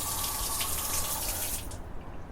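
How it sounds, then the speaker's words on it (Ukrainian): Water runs from a tap on a balcony of a home in Thailand into a drain built on the balcony, a close, steady gushing flow that trails off near the end. "Як ви бачите, вода тече прямо в стік, який зроблено також на балконі."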